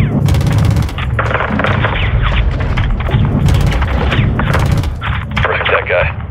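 Artillery rounds boom and crack in rapid succession during a Call of Duty Modern Warfare 2 mission in Mexico, loud, close explosions and gunfire overlapping with radio voices talking.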